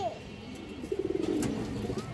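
Pigeons such as Khaki and green-necked breeds coo close by, a rapid pulsing burst of throaty coos in the middle of the moment, with people talking around them.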